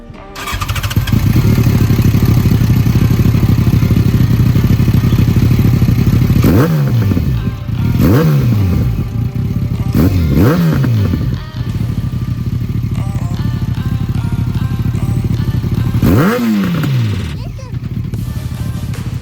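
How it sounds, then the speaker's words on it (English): A loud Yamaha FZ1 1000cc motorcycle with a full Yoshimura exhaust system idling roughly, then several sharp revs that rise and fall, followed by steady rumbling, close up. "The bike has been fitted with the entire Yoshimura exhaust system, which makes it sound insane."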